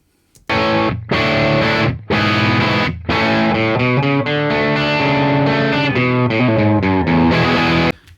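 Crunchy overdriven electric guitar through a limiter, played as a few strong sustained chords separated by short gaps, then a busier run of notes and chords, loud and close with no talking.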